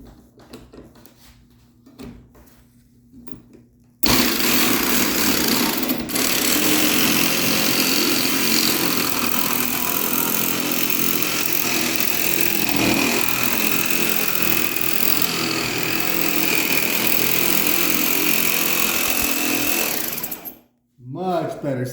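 A power saw with a brand new blade cuts through half-inch stock, a loud, steady whine that runs without a break for about sixteen seconds before it cuts off. Brief talk comes before the cut.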